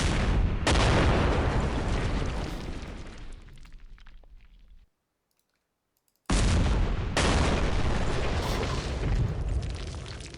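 Gunfire and blasts from the war video game Campaign Series Rising Sun: loud, dense rumbling volleys fill the clip, break off for a short silent gap, then come back just as heavy.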